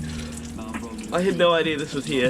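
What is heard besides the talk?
hot shower running outdoors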